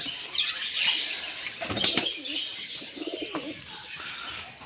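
Pigeons coo softly while wings flap in quick flurries close by, with scattered chirps in the background.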